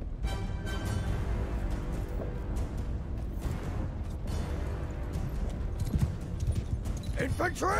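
Horse galloping in Mount & Blade 2: Bannerlord amid battle noise, a rapid muffled hoofbeat under a player's talk, with rumbling combat sounds around it.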